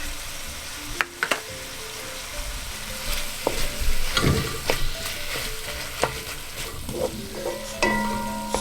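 Onions frying in a pan alongside other vegetables for a mackerel rundown, with a steady close sizzle broken by scattered utensil clinks and scraping stirs, no voices.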